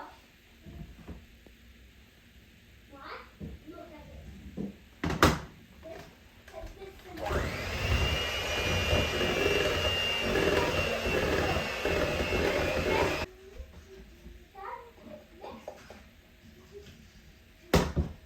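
An electric mixer whirs steadily for several seconds as it beats butter and icing sugar into buttercream, a continuous loud drone set between stretches of quieter kitchen clatter and talking.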